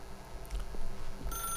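A telephone rings faintly within The Stanley Parable video game, a soft electronic tone emerging late over a low background hum.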